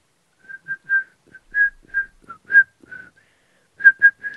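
A person whistles close to a microphone in a series of short, clear, high-pitched notes, some chirped and some slightly sustained, with brief pauses between them and a couple of quick notes near the end.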